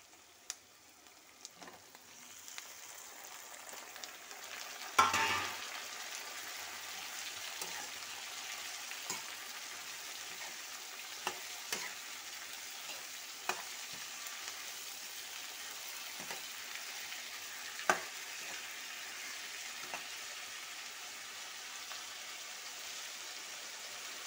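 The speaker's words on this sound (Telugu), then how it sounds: "ఈ ఆనియన్స్ కొద్దిగా పచ్చివాసన పోగానే టమాటా ముక్కల్ని యాడ్ చేసుకుంటున్నాను" Onions and tomato pieces frying together in a pan for tomato rice, a steady soft sizzle with occasional clinks of a spoon stirring, close and continuous.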